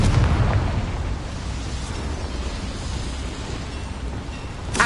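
A Confringo fire spell detonates in Hogwarts Legacy, giving a broad rumbling boom with a long roaring tail that holds steady before a final sharp crack at the end.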